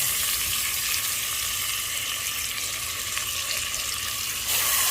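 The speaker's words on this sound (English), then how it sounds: "We're gonna put them back into our black iron pot." Browned, marinated pork chops sizzle loudly in a black cast iron pot for Cajun smothered pork chops, a dense, steady hiss with no pauses and no talking.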